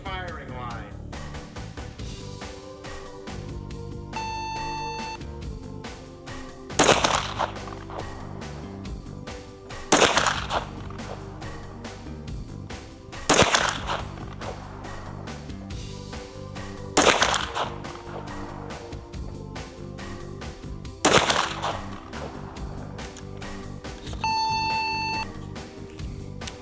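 Stock Glock pistol fired at an outdoor shooting range, six sharp, loud single shots spaced a few seconds apart over range background, with people talking and brief electronic beeps from a timer.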